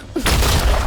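Sticks of explosives detonate in a thriller movie, a sudden loud blast at about a quarter second that sustains as a dense, roaring rumble with crackling debris through the rest of the moment.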